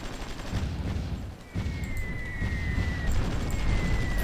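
Distant bombing and gunfire from a Cold War strategy game set in Vietnam, a dense continuous rumble of blasts and crackling shots with a faint whistling tone drifting through, steady and without speech.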